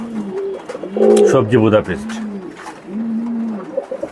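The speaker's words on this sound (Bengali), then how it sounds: "এটা হচ্ছে একটা রেসার কবুতর, বার্লেস রেসার, বেলজিয়াম ব্লাড লাইনের অরিজিনাল" Belgian bloodline racing pigeons at a pigeon farm in Mirpur, cooing in repeated low rolling calls, close and clear, with someone speaking over part of it.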